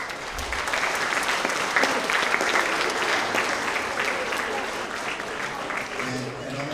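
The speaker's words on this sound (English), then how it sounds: "We could give them a big round of applause." Sustained applause from students and staff for teachers at a middle school award assembly in a large room, dense and even with a slight swell in the middle and a light tail of crowd murmur.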